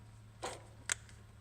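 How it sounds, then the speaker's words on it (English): Plastic electrical connector being unplugged from the fuel rail pressure sensor on a 2006 Ford Explorer, giving two short, faint clicks about half a second apart against a quiet background. "Pull off this line here, disconnect this connector"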